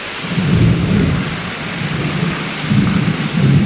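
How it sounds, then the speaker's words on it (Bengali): Low thunder rumbles in slow rolling swells beneath a steady hiss of heavy rain, close and loud, with no talking. "আর মেঘ দেখছো কীভাবে ডাকছে"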